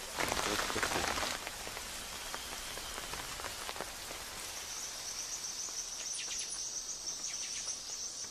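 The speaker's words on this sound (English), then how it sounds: "A light shower forces the men to rest for a day." Light rain shower in a rainforest, soft steady patter of drops on leaves with a brief heavier burst at the start, and insects or crickets trilling faintly in the background.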